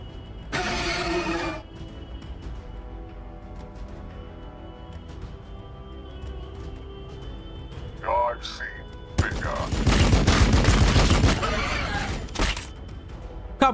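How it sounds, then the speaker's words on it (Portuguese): Gunfire in the video game Warhammer 40k Battlesector: a short burst of shots early on, then a loud, dense barrage lasting a few seconds near the end, over low in-game ambience. "Eu vou atirar aqui agora."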